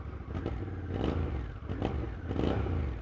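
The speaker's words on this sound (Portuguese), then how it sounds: "Vamos lá ouvir a sonoridade deste escape." A Honda NT1100 DCT motorcycle exhaust revs close by, the engine rumbling loudly and rising in repeated surges of throttle.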